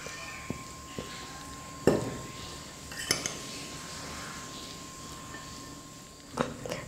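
A spoon scrapes and clinks against a pan while cooked cowpea sundal is mixed with grated jaggery. A few sharp, scattered knocks sound close over a quiet background, with no talking.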